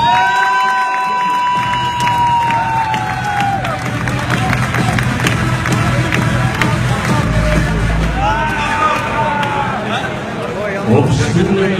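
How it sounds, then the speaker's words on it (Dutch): An audience cheers and applauds loudly as a poker tournament finalist is introduced at the table, a dense wave of clapping and shouting that swells and holds for several seconds, with crowd chatter mixed in. "Ik wil een applaus voor Freerik Post"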